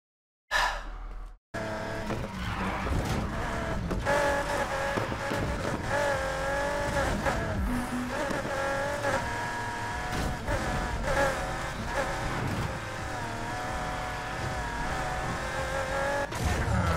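Rocket Bunny Nissan 350Z racing in Need for Speed Heat, engine roaring continuously at high revs with tire squeal and skidding through corners, loud and unbroken after a brief gap at the start.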